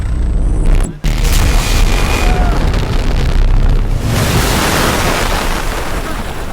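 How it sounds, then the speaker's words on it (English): An EMP blast explodes in the Battlefield 4 campaign's Shanghai mission: a loud, rumbling roar fills the scene, cuts out sharply for an instant, then surges back as a sustained heavy boom that slowly tapers off. "EMP blast! Don't worry! It kills electronics, not people!"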